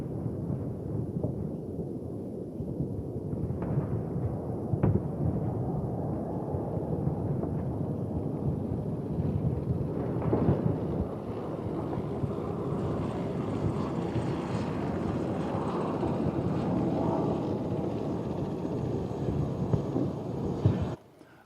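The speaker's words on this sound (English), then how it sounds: "A firestorm. Warfare bombardment." A firestorm and warfare bombardment sound effect: a dense, continuous low rumbling roar with windy crackle and occasional heavier swells, loud and steady for about twenty seconds before cutting off, with no voices.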